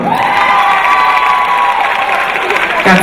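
A talk show studio audience erupts in loud cheering, whoops and clapping, a brief, close, sustained roar of crowd noise.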